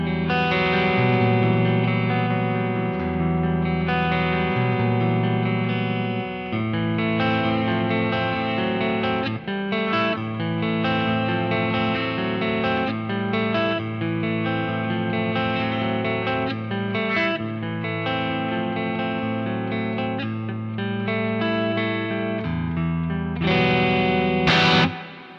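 A D'Angelico Atlantic baritone electric guitar tuned to B standard plays heavy, high-gain distorted chords and riffs, loud and upfront with rhythmic changes, with no voice over it.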